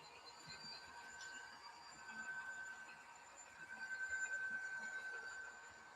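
A model train locomotive runs on a loft layout, its motor a faint, steady hum with wheels squealing thinly against the rails as it rounds a corner.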